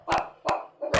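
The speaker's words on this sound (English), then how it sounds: "dogs!" Dogs bark in three sharp separate bursts, fairly close and loud, with short quiet gaps between them.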